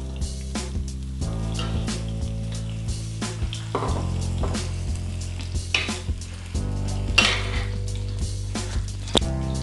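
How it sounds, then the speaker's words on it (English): Spring onion tossed into a hot pan for a curry chicken sauce, with steady close sizzling and frying broken by repeated clinks and scrapes of a utensil stirring against the pan. "Then you add your spring onion."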